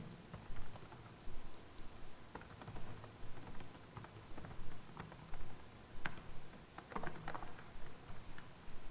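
Java code being typed on a computer keyboard: quick, soft, irregular key clicks in bursts, close and fairly quiet, with no talking.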